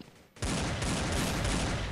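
Dense, continuous gunfire in the shooter video game Blood Strike bursts in after a brief quiet moment and stays loud and sustained, a rapid fusillade of overlapping shots filling the rest of the stretch.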